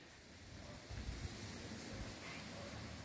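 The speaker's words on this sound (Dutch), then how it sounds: "Als het goed is, hoor je de wind ook." Wind blows across the front porch of a rental house in Jan Thiel, Curaçao, a soft steady rushing and low rumble, faint and distant-sounding, with a slight gust near the end and no talk.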